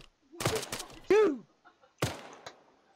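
Sharp gunfire bursts in the video game Arma 3, a few separate cracks spread across a couple of seconds, mixed with a short shout and voice sounds.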